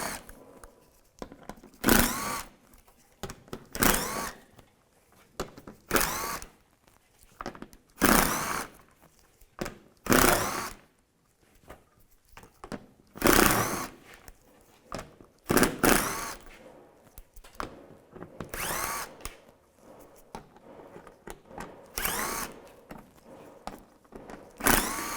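Repeated bursts of a power drill backing out 7mm screws along the front panel of a 2010-2016 Cadillac SRX, each whir short and close, separated by brief pauses, with no talking.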